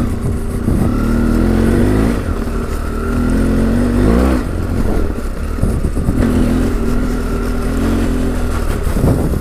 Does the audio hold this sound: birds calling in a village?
no